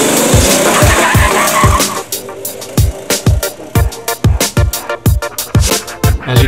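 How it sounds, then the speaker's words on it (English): Homemade go-kart with four knobby tires and a centrifugal clutch, racing close by with a loud engine rasp at first, then a rapid series of sharp, repeated tire skids and squeals. "As you can see, the kart's pretty fast."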